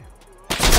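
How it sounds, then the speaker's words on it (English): A boss fires in a shooter video game: after a brief low electronic hum, a sudden loud burst of rapid gunfire erupts and carries on at full strength to the end. "Do you think that's him shooting me?"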